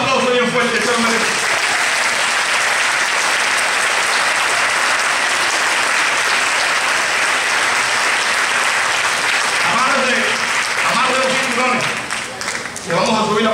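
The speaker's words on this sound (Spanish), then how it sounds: "Den un aplauso bien fuerte, se lo merece." A church audience applauds loudly and continuously for a long stretch, with dense clapping filling the room, while a voice speaks over it near the start and again as the applause fades at the end.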